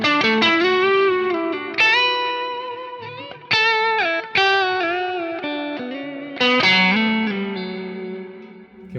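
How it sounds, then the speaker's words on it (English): Electric guitar through a Keeley Halo Dual Echo pedal with a dotted-eighth delay, playing clear sustained notes and chords whose repeats cascade rhythmically behind each attack, loud and alone. "The way that I dial in this particular Halo sound is you've got the echo, that's that dotted eighth quarter note kind of thing."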